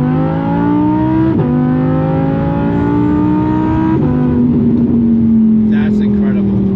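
An Audi R8 accelerates hard on a track, its exhaust roaring loud and close as the engine note climbs steadily, broken by two quick upshifts.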